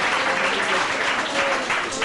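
Congregation clapping hands together during a Tamil Christian church sermon, a dense, steady burst of applause that fills the room for about two seconds.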